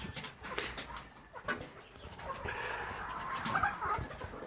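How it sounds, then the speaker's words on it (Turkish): Chickens cluck softly and a young rooster of this year's hatch gives short calls, faint and somewhat distant, with light rustling in the background. "Bu horoz bu senenin yavrusu."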